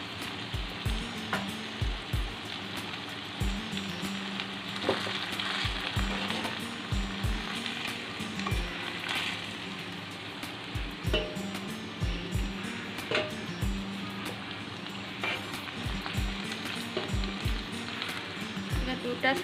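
Fritters of puroi (Malabar spinach) leaves fry in hot oil with a steady close sizzle, and repeated low knocks and scrapes from a utensil against the pan come at an uneven rhythm.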